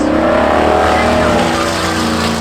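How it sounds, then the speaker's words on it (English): A GM-powered pickup truck races at a speedway spectator drags event, its engine roaring loud and close with a steady, rising drone under an announcer's voice. "in that GM-powered pickup truck with the advantage down the back stretch"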